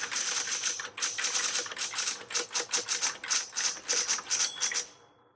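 Rapid keystrokes on a 1960s Smith Corona Coronet electric typewriter clatter in quick bursts with a mechanical rattle, close and crisp, stopping abruptly at the end.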